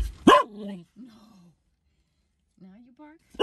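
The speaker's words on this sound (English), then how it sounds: "Now you bark?" A dog gives a sharp bark near the start, followed by a few soft whining or groaning vocal sounds, with another abrupt bark-like burst at the end, indoors during a trip along the Pacific coast.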